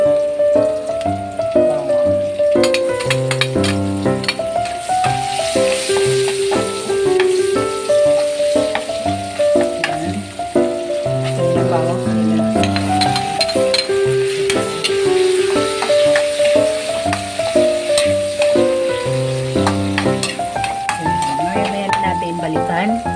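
Garlic fries in a hot pan with a loud, dense, continuous sizzle, close up and alone, steady throughout.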